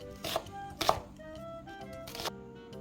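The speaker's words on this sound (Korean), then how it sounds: "양파 한 개 가지고 반은 짧은 채로 썰어주고 반은 갈아줄 겁니다" A knife cutting half an onion into short strips on a board, with a few distinct chopping knocks spaced apart against a quiet background hum.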